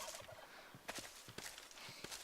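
Turkeys gobble in a modded server video game, with a couple of faint, quick gobbling bursts over a low background and a few soft footstep-like taps.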